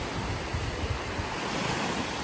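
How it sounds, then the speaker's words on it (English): Ocean waves break and wash on a beach in Corsica, a broad steady roar of surf mixed with wind buffeting the microphone, continuous with no voices. "we've been having some waves"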